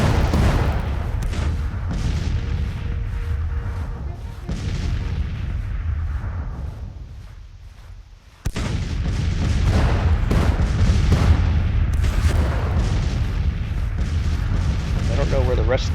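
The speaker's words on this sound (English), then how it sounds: "This brigade is getting hammered by 32 guns." Heavy artillery fire from 32 guns in the Civil War strategy game Grand Tactician, a dense continuous barrage of booming cannon shots and rumbling blasts, loud and sustained, briefly easing before resuming at full intensity.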